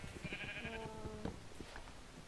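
A Minecraft sheep bleats in a survival game, one clear wavering bleat followed by a few faint clicking sounds, quiet overall.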